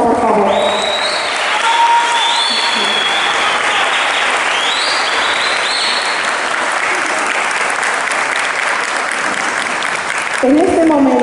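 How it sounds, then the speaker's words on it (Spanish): Loud, steady audience applause fills a Mexican afternoon fiesta hall honoring a folk ballet group, continuous dense clapping throughout with whistles and crowd noise mixed in, briefly giving way to a voice near the end. "Brindémonos un fuerte aplauso, por favor."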